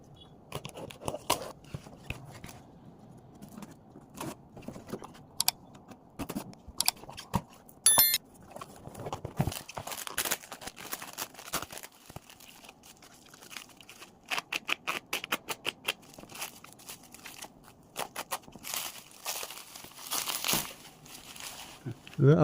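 Cardboard box for Xerjoff Erba Pura perfume being opened by hand, with irregular crinkling, scraping and tearing bursts up close, some sharp clicks, and quiet pauses between the handling noises.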